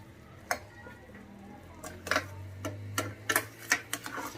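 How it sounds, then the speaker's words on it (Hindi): Grated carrot halwa with sugar and ghee roasting in a pan, with sharp irregular clicks and scrapes of a spoon stirring against the metal and a low hum underneath. "तो बस अब इसको यहाँ पे भून लेंगे अच्छे से।"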